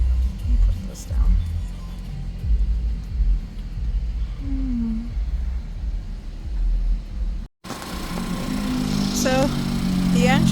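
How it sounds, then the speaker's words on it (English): A 2014 Cadillac ATS with push-button start runs steadily, its low engine rumble continuous through the clip, with a brief dropout near the end and faint background noises over the drone. "So the engine is running great"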